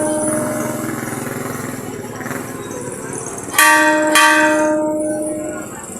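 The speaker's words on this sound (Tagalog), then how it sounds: "Rinig na rinig yung tunog ng napakagandang kampana na yan." A large church bell at Our Lady of the Rosary College rings out loud and close, with two strong clanging strikes ringing over a low engine hum and faint outdoor voices.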